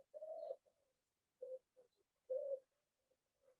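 A wood pigeon coos in soft, hollow phrases, three main hoots spaced apart with quieter trailing notes, clear against a silent background.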